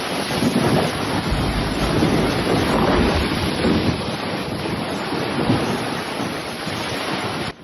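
Storm waves crash and surge under a constant roar of strong wind buffeting the microphone, loud and unbroken, on the coast of Malta during a winter storm.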